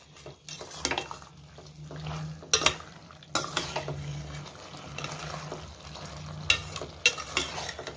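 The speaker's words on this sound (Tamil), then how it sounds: "இப்போ வதங்கிச்சான்னு பாருங்கள். நல்லா வதங்கிட்டு இருக்குது." Chicken sautés in a pan for a home-style chicken kurma, with a continuous sizzling fry broken by a few close stirring scrapes and clinks of a utensil against the pan.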